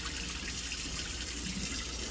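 Water poured steadily over jasmine rice to wash it, a continuous close splashing rush of liquid with no talk.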